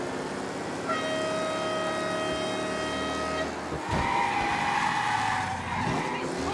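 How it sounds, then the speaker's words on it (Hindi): Tires squeal long and loud under hard braking on a 1930s racecar in Mafia Definitive Edition, a tonal screech that holds for several seconds, breaks off, then returns in a second skid over steady engine noise. "मैंने इस कार के टायर को पूरा घिस दिया एकदम, ब्रेक लगा के"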